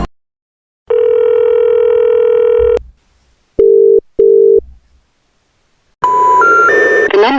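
A telephone gives a steady dial tone, then two short beeps, then a rising sequence of dialing tones, all loud and clean with no talking.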